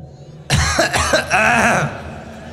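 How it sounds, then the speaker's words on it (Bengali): A crowd at a religious sermon coughs together when asked to. It is one loud, layered burst of many throats that lasts over a second and then dies into the murmur of the room. "একটা কাশি দেন"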